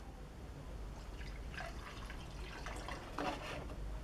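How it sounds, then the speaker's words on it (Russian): Water pouring during a home aluminium electricity experiment, a low steady trickling and dripping that stays faint against a constant background hum, with a slightly louder splash near the end. "За водой, как она льется."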